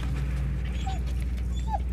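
A dog in the video game Valiant Hearts gives two brief, faint whimpers over a low steady hum of game background sound.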